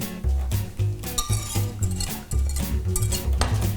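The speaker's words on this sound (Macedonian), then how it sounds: "и мешам да се соедини" A spoon or whisk clinks and scrapes rhythmically against a bowl while cream and milk are stirred together for panna cotta, steady repeated strokes close up.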